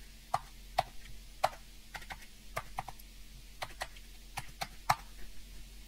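Keys on a computer keyboard tap out a password in irregular, crisp clicks at close range, with short pauses between keystrokes.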